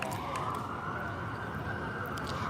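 A police siren wails steadily outside a home during a livestream, constant and moderately loud with no speech.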